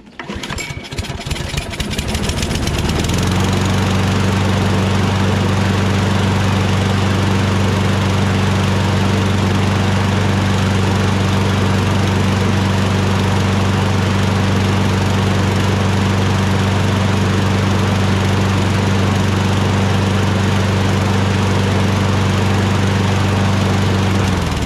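An old Craftsman 22-inch lawnmower with a Briggs 6.25 Quantum engine, in need of repair, starts up and then runs steadily and loudly at a constant drone, close by, with no talk.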